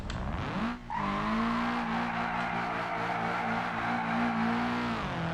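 A four-wheel drive car's exhaust in BeamNG Drive drops briefly, then holds a loud, sustained, steady engine drone that rises slightly in pitch and ends with a falling tone, heard alone with no talking.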